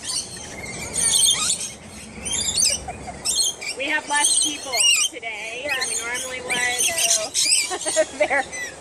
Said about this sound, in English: You have a bird on your head.